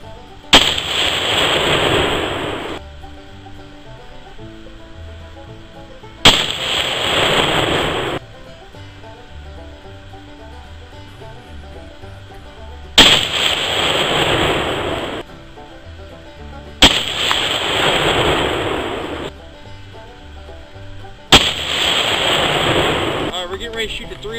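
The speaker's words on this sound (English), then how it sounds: "Here's all the guns we're gonna be shooting today. 223 AR, 22-250, 308 7mm, and a 223 bolt action." Rifle shots from a .223 AR, 22-250, .308 and 7mm at a 100-yard range, five loud sharp reports spaced several seconds apart, each trailing a long rumbling decay, with no voices.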